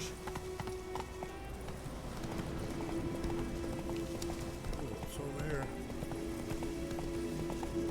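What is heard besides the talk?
horse galloping in The Witcher 3 video game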